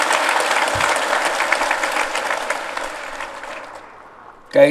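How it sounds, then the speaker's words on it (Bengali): Audience applause at the opening ceremony of National Fish Week 2025, a loud sustained clapping crowd that gradually fades, ending with a brief voice. "তাদের সবাইকে আবার জোরে হাততালি দিয়ে একটা সবাই মিলে হাততালি"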